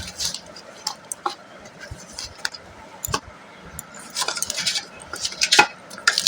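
Flour being worked a little at a time into semolina dough for soft parathas in a bowl, with irregular close clinks and scrapes of a utensil against the bowl.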